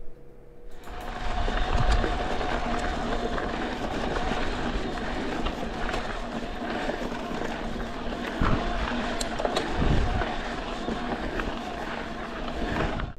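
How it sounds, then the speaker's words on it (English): A Fazua Ride 60 e-bike motor on a Pivot Shuttle SL mountain bike starts after a brief silence, then gives a steady, fairly loud whirring drone with rattling rolling noise. It holds evenly to the end, with a few sharper bumps. "Next motor is the Fatsuo Ride 60 again, and this time it's on a Pivot Shuttle SL."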